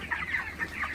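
Broiler chickens on a farm during hot weather, some showing signs of a cold, giving soft overlapping clucks and calls at moderate distance.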